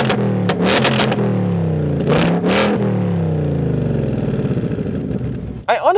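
A loud V8 sports car exhaust in track mode roars through several sharp revs, crackling and popping between blips, then settles into a rough, throbbing idle close by.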